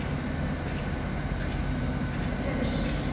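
A passenger train on the Manchester line moves off from Lee Green station, a steady low rumble and rolling rail noise filling the recording at close range, with a few faint clicks and squeals above it.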